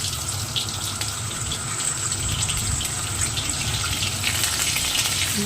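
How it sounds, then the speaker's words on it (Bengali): Garlic stirred in hot oil in a wok makes a loud, steady, hissing sizzle that runs unbroken from start to finish, close and without any talk. "রসুনগুলো একটু নাড়িয়ে চাড়িয়ে নেব"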